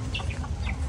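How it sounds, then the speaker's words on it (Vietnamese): Chickens and young chicks clucking in a garden with grapefruit and jackfruit trees, a few short overlapping calls over steady low outdoor rumble. "Đó gà con đó kìa"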